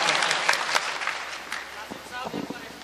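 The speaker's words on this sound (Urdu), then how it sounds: "پہلی صف سے لے کر آخری صف تک تالیاں بجا کر" Audience applause fills a packed mushaira hall, dense continuous clapping from front rows to back welcoming a poet to the stage, loud and sustained and slowly thinning toward the end.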